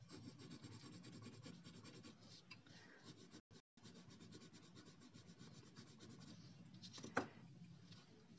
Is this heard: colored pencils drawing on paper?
yes